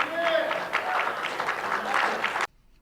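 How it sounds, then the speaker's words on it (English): Applause from a church congregation, a steady wash of many hands clapping at close range that cuts off abruptly, with a little talk mixed in. "That sounds like the round of applause of a group of people who don't understand herd immunity."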